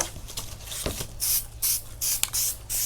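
Spray gun misting primer onto a car body panel during bodywork prep, heard up close as a series of short bursts, each a loud airy hiss lasting a fraction of a second with brief pauses between.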